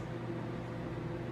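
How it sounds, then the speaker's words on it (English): A microwave oven heating breakfast taken from the fridge gives a steady, low, even hum with no breaks, with no talking over it. "So, ito-to ko muna sa microwave."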